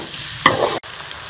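Onions and tomatoes with chicken frying in a karahi for Irani chicken karahi; a close, scraping stir over a low sizzle, a burst of louder stirring midway, then a brief cut before the sizzle resumes.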